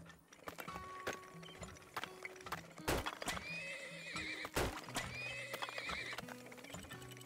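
Horses in the Turmoil video game neigh and whinny repeatedly over steady clip-clop hoofbeats and light game music, the calls coming in several bursts close up.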